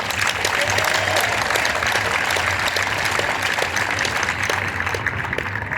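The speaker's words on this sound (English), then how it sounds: "Let me give him rounds of applause." Steady applause from a crowd at the Tunnel to Towers charity run and walk in downtown South Carolina, continuous and fairly loud for the whole stretch, with a low hum beneath it.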